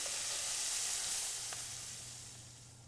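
A big steak searing hard in a hot pan indoors makes a dense, loud, continuous hiss that fades gradually toward the end.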